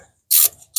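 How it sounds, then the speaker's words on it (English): A ratchet wrench with an 11mm socket turns bolts on a Peugeot gearbox cover, giving two short bursts of rapid close clicking separated by a brief pause. "It is held by 4 bolts and I need to use an"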